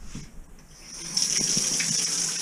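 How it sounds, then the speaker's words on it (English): Shower water starts running, a soft trickle that swells into a steady close hiss of spray, with a few light knocks underneath. "gotta take a hot shower to get a new wetsuit"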